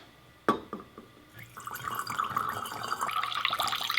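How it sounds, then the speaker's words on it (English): Water poured slowly from a spout into a glass spray bottle of homemade all-purpose cleaner, starting with a brief knock then a steady, rising trickle and gurgle as the bottle fills, close and alone. "So you pour water to the top. Do it slowly so this doesn't suds up a lot."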